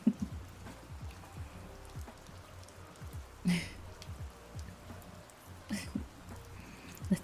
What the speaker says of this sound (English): I think the rain is good